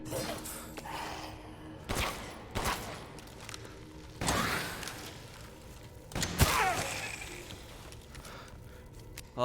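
Gunshots ring out in Resident Evil Village inside a werewolf lair: four or five sharp, loud cracks at irregular intervals over a steady rumbling game backdrop, with a further burst right at the end.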